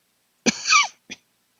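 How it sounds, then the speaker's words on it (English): A single harsh cough followed by a short second cough, close and fairly loud, in an otherwise silent room. "sorry about that cough"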